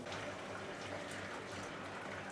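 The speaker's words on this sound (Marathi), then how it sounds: "गरम पाणी घालूया" Hot water poured in a steady, continuous gush over roasted barnyard millet in a pot, a loud, close, unbroken splashing flow with no talking.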